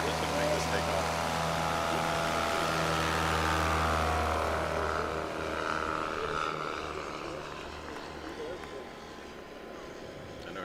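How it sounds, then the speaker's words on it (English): A Rotax-powered light aircraft makes a short STOL takeoff at an airshow field, its propeller engine buzzing loudly and steadily before fading with distance as it climbs away. "Let's see how short he's going to make this takeoff."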